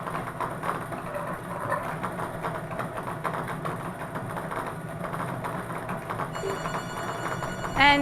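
A telephone rings with an incoming call over a steady low engine-like hum, the ringing fairly loud and continuous throughout, with a brief sharper sound at the very end.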